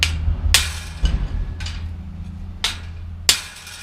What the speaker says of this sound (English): I'm gonna go get a little chisel and put it on there and hit it, and that should fix it.